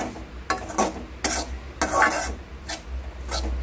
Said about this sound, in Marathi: आता आपण सुकं खोबरं भाजून घेतो